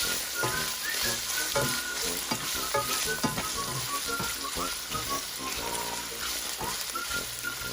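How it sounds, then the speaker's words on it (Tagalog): Pork meat and fat stir-fried in a pan for a pork and taro root dish, with a steady close sizzle and repeated scraping and clinking of the utensil against the pan throughout. "We need to stir fry that turn brown."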